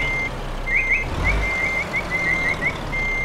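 Truck reversing alarm in Euro Truck Simulator 2, a steady high-pitched beeping repeating at a regular rhythm over a low idling engine rumble, clear and close with no talking.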